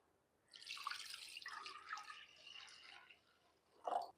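Water pours from a vessel into a pot holding chicken marinade for tambda rassa, a soft splashing pour lasting a few seconds, then a brief final splash, quiet and close.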